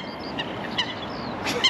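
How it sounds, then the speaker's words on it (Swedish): Several short bird calls, honk-like and chirpy, ring out against a soft outdoor background during spring pike fishing from a boat, with a louder cluster of calls near the end. "Fåglar överallt."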